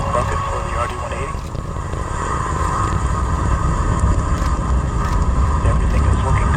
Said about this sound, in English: As the chamber pressures continue to climb out, we have entered our first throttle bucket for the RD-180.